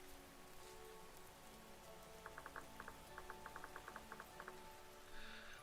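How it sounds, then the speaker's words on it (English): Rain falls on crops in the video game Vintage Story, a soft, faint steady patter with a run of small clicking drops in the middle and no voices. "Rain, rain, thank you. Raining on my crops."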